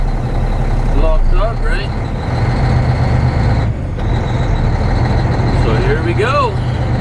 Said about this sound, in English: All we gotta do now is back her up a little bit